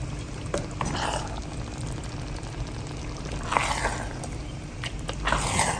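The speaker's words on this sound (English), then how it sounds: "So let me stir it up" Liberian jollof rice simmers on low heat in a pot while a spoon stirs it, giving soft bubbling and wet scraping and clinking strokes at an unhurried rhythm, close by.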